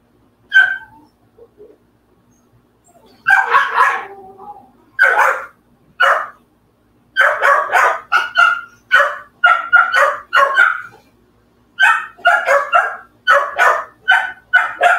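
American pit bull terriers barking close by, a loud series of sharp barks and yips in irregular bursts, some rapid clusters separated by short silences, with a faint whimper early on.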